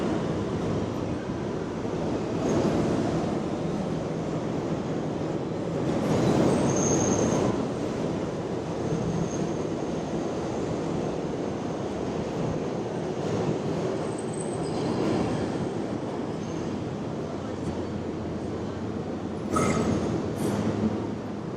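A subway train runs for a long stretch, a continuous loud rumble of wheels on rails with rising and falling surges and a few high squeals near the end, with no talking.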